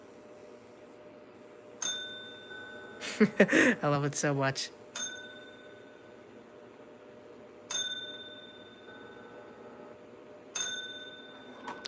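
A small model locomotive bell dings a few times, spaced apart with ringing decay, and a short burst of someone talking comes in between the rings.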